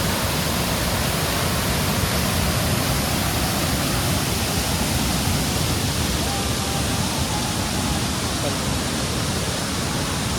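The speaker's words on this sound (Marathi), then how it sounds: "इकडे राईटला वॉटरफॉल आहे" A waterfall at Vagamon Hills in Kerala pours with a dense, even roar of broadband rushing water that stays constant and close throughout.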